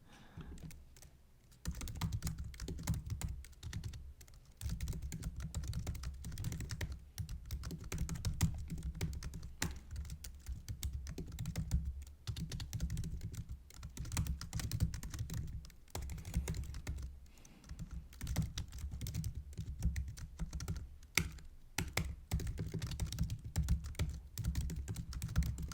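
Someone types on a computer keyboard while coding, producing a steady, close run of quiet clicking keystrokes with no talk.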